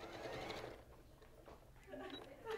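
Sewing machine stitching a curve on a maritime quilt, a brief run of fast mechanical stitching that pauses and resumes, fairly faint, with voices talking over it.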